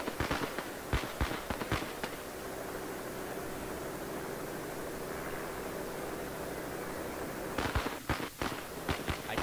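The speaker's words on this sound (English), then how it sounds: "Someone yeet the firecrackers in there already." Firecrackers thrown at a riot line in the video game RIOT - Civil Unrest go off in sharp crackling bursts at the start and again near the end, over a constant hissing background din.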